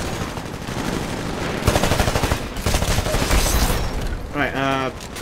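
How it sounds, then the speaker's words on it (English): Gunfire in the Titanfall video game, dense bursts of shots and blasts throughout, loud and busy, with a player's voice talking over part of the fighting. "that's a gun"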